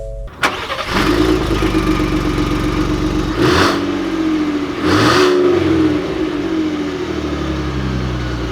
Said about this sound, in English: let's take the F-150 Limited out,